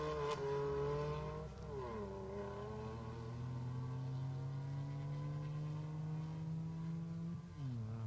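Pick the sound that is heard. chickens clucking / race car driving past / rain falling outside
race car driving past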